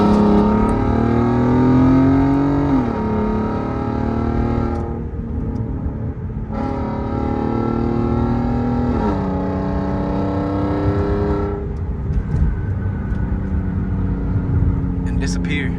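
Loud Audi TT with a VR6 engine revving hard after a downshift, its pitch sweeping up and falling back in repeated bursts over steady road and exhaust drone, close and continuous throughout.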